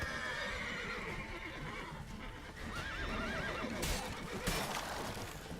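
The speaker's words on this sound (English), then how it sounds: "I'm not trying to kill the horses." Horses in The Witcher 3 whinny and neigh loudly over clopping hooves and a busy game soundscape, with no one talking.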